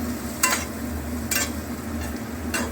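Peas being stirred in a frying pan, with three brief scraping stirs at a steady interval over a soft, steady sizzle of frying food close by.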